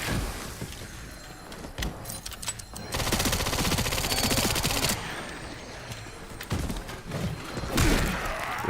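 Rapid gunfire in the horror video game Resident Evil Requiem, with repeated sharp bursts and thuds of shooting and impacts coming in clustered volleys amid game noise.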